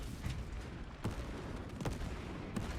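Grenades detonate in a Warhammer 40K Space Marine battle against a Tyranid swarm, giving several sharp blasts spaced about a second apart over a dense, rumbling backdrop of game combat noise, fairly faint overall.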